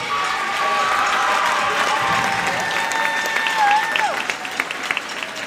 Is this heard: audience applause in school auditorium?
yes